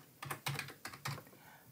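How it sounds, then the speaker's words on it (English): Quiet keystrokes on a computer keyboard, four or five quick soft clicks in a short burst, close and alone. "and I'll type in flowchart."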